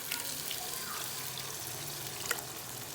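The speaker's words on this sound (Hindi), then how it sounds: "अब मैं इसमें डालूँगी इतना पानी जितने में ये दाल जो है ना ये गल जाए" Water poured into moong masoor daal frying with its spice masala in a pot, a steady watery sizzle and gurgle running throughout with no talk over it.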